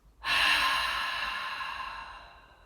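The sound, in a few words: long exhale during a breathing exercise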